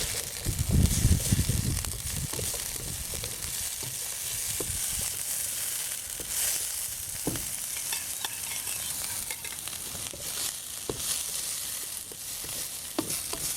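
Garlic, celery and carrot fry with onion and ginger in a pan, a continuous close sizzle with stirring scrapes and a louder burst of crackling at the start.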